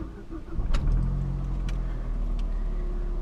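A Gen 1 Mazda 3 MPS fitted with a GFB Respons valve runs with a steady, fairly subdued engine drone, swelling briefly near the start before settling into an even hum.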